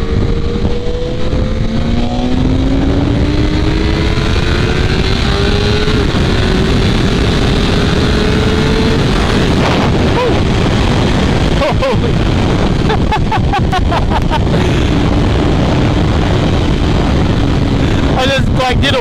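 BMW S1000RR sport bike engine at close range during a wheelie on a ride in South Korea, loud and sustained with a rising whine, then choppy revving near the end, all under heavy wind roar.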